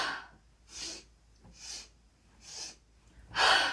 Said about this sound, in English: let your breath pick up pace.